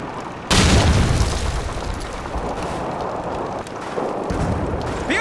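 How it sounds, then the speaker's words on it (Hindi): A grenade blast in an old shooter video game erupts as a loud, sudden boom, followed by a long rumbling roar that stays heavy for several seconds. "ले बेटा ग्रेनेड"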